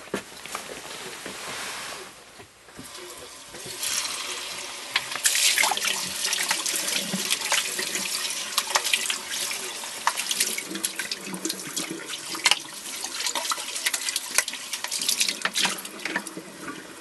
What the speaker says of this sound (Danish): og så skal denne her vaskes